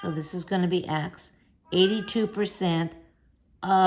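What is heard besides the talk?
No distinct noise like a dog, phone or traffic.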